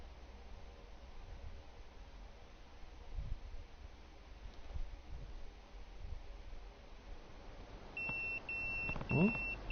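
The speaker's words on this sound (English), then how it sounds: "That's my beeper." A pager in the Yakuza video game gives a short series of bright electronic beeps near the end, following a stretch of quiet background noise.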